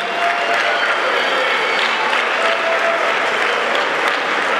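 A crowd at a Lexus of Tulsa dealership grand opening applauds, loud close clapping that stays steady and dense for several seconds with faint voices mixed in.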